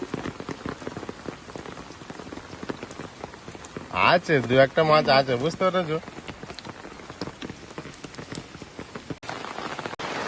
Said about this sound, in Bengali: কি বৃষ্টি হচ্ছে বলো তো